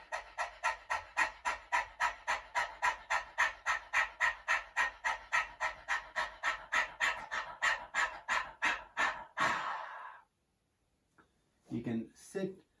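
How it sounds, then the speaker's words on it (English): A person does rapid dog-like panting breaths in Kukkariya Pranayama, a vigorous yoga breathing practice: about thirty quick, evenly spaced breaths up close, then one long exhale and a few softer breaths after a short silence. "then we just do that panting breath practice"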